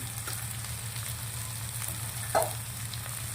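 Soft, steady sizzling of half a spoonful of cumin seeds in hot oil, with a single small clink partway through.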